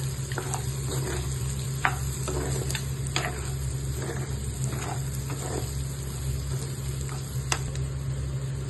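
Prawns fry in a pan with garam masala, giving a steady close sizzle under a constant low hum, with light scattered ticks and stirring clicks throughout and no talk.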